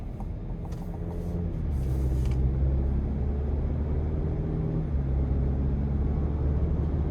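Four-cylinder engine of a 2026 Chevrolet Colorado ZR2 heard from inside the cab while driving, a low steady drone with road rumble and a few soft clicks early on.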